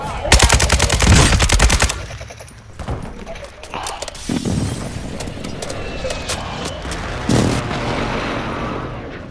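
MP5 submachine gun fire in an online shooter, a loud rapid burst of shots at the start, then scattered distant gunfire and game noise, with players talking over it.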